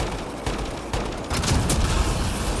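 Turret firing in Mass Effect Andromeda, a rapid burst of sci-fi gunfire with sharp repeated shots and thuds, dense and loud, intensifying toward the end.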